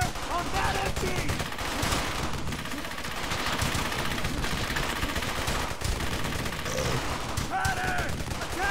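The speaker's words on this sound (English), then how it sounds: "I want heavy fire on that MG!" Dense squad gunfire in Brothers in Arms, with rifles and machine guns rattling continuously at a steady loud level as troops pour heavy fire onto an enemy MG 42 position, shouted voices breaking through now and then.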